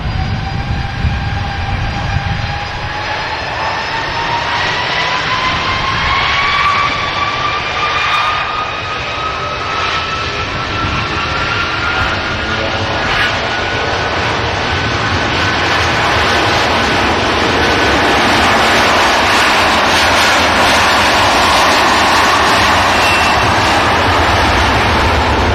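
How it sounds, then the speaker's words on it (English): An Airbus A330-300 with Rolls-Royce engines roars through its takeoff run, a loud sustained jet rumble with rising whining tones that builds and holds for the whole stretch, close and overpowering. "A330-300. Some beautiful Rolls-Royce power plants. About to thrust this aircraft down 23 left and over the Atlantic to the States."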